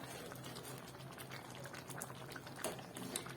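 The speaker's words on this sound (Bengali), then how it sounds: "আর 1 মিনিটের মতো ফুটিয়ে নেবো" Dhokar dalna curry bubbles in a pan, a continuous soft simmer of burbling and popping bubbles, close but quiet, with no talk.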